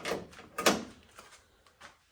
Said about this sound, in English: open the doors up